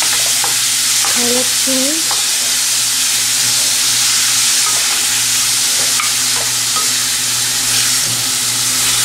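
Crushed ginger and garlic frying for a mutton pepper curry make a loud, steady hiss and sizzle with a low hum beneath, plus a few brief squeaky utensil scrapes early on; a voice speaks briefly.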